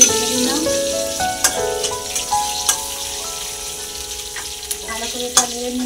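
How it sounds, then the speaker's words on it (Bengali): Garlic paste and green chilies frying in a pan, a steady sizzle broken by sharp scraping stirs, with faint talk in the background. "ভালো করে এটা ভেজে নিলাম"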